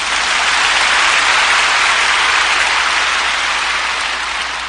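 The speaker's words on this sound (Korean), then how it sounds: "한번 힘차게 박수합시다" A church congregation claps together in a sustained, loud, dense round of applause that fills the whole moment without any voices.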